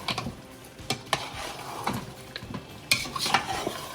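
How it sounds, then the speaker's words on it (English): Spoon stirring beef kofta curry in a pan, close scraping and clinking strokes at an uneven rhythm over a soft steady sizzle, no talking. "So I'm just going to give it a quick mix."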